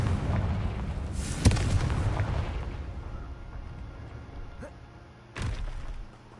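Confringo fire spell explosion in Hogwarts Legacy: a sharp, booming blast followed by a long rumbling tail, then a second heavy explosion near the end, both loud and close.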